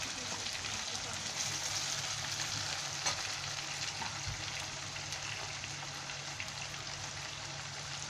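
Ginger garlic paste fries in a pan for chicken biryani, giving a steady close sizzle with soft stirring noises and a low hum underneath.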